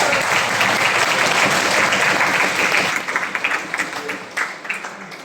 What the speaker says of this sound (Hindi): एक जोरदार ताली आप सभी के लिए